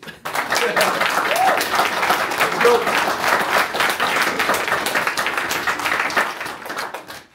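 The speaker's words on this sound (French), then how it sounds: "Je pense encore une fois qu'on peut s'applaudir." A hall full of audience members at a youth patriots' political conference in Quebec applauds steadily, a dense wash of clapping that holds loud and even for several seconds before tapering off.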